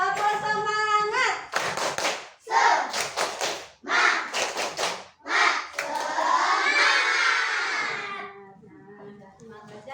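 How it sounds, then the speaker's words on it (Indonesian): A school class in Indonesia claps a rhythmic chant together, bursts of hand claps in short patterned groups mixed with children's shouting voices, loud and close, ending in a sustained collective shout before fading. "mari kita tepuk semangat dulu. Tepuk semangat."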